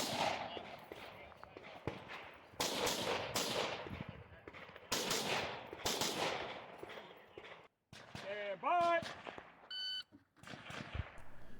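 Gunfire at a multigun match: repeated sharp shots in bursts and strings, loud and fairly close, on a long-range stage. A few short electronic beeps near the end, likely a shot timer.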